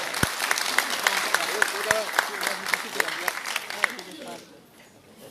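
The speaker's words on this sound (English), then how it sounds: "Just give him a round of applause." Audience applause at an oil and gas forum in Miri, Sarawak, a few seconds of steady clapping that fades toward the end, with a voice talking over it.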